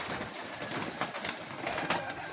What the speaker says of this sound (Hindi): अजब कबूतर है।